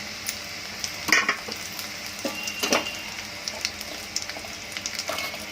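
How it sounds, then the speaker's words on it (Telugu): Dried red chillies fry in hot oil in a kadai, a soft, continuous sizzle broken by a few sharper crackles and spoon scrapes, close and fairly quiet. "ఆయిల్ హీట్ ఎక్కాక ఎండుమిరపకాయలు వేసుకోవాలి"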